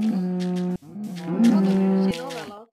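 Cows moo in two long, loud, close bellows, the second wavering and slightly rising, with no talk over them.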